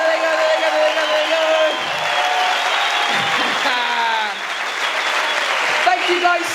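Audience at the end of a stand-up comedy show in Morges, Switzerland, clapping steadily with scattered whoops and cheers, a dense sustained wall of applause with a voice speaking over it.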